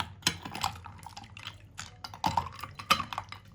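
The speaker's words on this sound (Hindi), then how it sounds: "ये बर्फ़ के क्यूब शामिल करेंगे और उसको हम अच्छे से मिक्स कर लेंगे" Ice cubes are dropped into sabudana sharbat and stirred, making a quiet, scattered series of close clinks and knocks against the glass with soft liquid sloshing between them.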